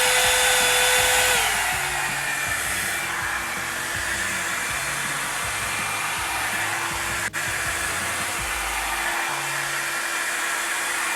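A Revlon 2-in-1 hair dryer styler blows on setting 1 with a loud, steady whoosh and motor whine that drops slightly in pitch early on, then holds evenly throughout, broken by one brief click.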